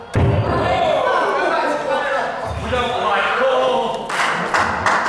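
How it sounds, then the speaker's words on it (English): Crowd at a UK wrestling show jeering a wrestler named Shauna, a loud sustained roar of boos and shouting filling the arena, with a few thumps and claps rising near the end. "Listen to that crowd, they don't like Shauna whatsoever"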